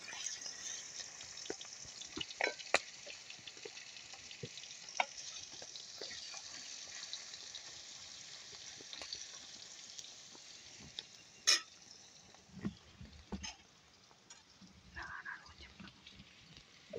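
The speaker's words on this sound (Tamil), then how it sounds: "இந்த எண்ணெயில் நாங்கள் இறாலை பொரிச்செடுக்க போகிறோம்." Steady crackling sizzle of prawns frying in hot oil, with occasional clinks and scrapes of stirring close by.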